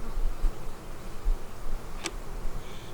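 Honey bees buzzing outdoors near a hive during a farm yard inspection, a soft steady drone close by with a faint tick partway through.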